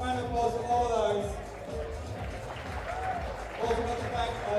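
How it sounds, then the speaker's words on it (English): Audience applause at a charity barbecue during the Flash Championship grand final, a steady wash of clapping with crowd murmur and a voice speaking over it. "Round of applause for all of those."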